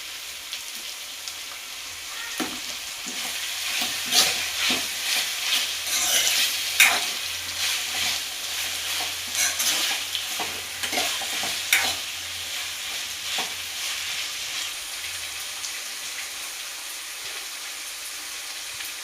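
Vegetables for veg fried rice stir-frying in a hot pan, a steady sizzle with repeated scraping and tossing strokes of the spatula at close range, no voices.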